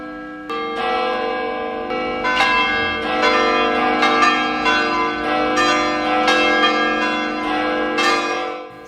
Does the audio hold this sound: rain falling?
no